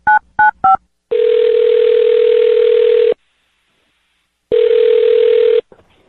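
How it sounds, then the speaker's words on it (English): Three quick touch-tone beeps as a number is dialed, then two long steady ringback tones separated by a pause, clear and close. "I'm going to dial his phone number right now"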